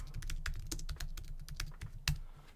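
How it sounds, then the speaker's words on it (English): Rapid keystrokes on a computer keyboard as a command is typed into a LightPayCoin wallet's debug console, a steady run of close, crisp clicks with one sharper stroke near the end. "open up the debug console and type in masternode outputs"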